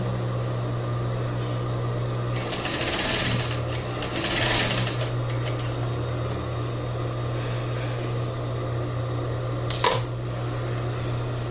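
A sewing machine topstitches the facing of a crepe bubble blouse with ruffles, running in two short, fairly loud bursts over a steady motor hum, then a brief whir near the end.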